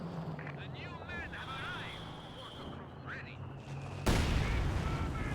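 Artillery barrage in Company of Heroes 2, distant thuds and battle noise under continuous commentary, ending with a sudden loud burst of explosions.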